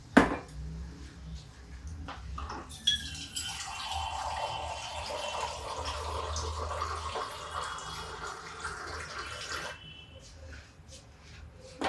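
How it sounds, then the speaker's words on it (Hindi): Water poured into a cooking pot of vegetables seasoned with chili and turmeric, a steady hissing pour lasting several seconds with clinks at the start and end. "ये इससे पानी डालते हैं।"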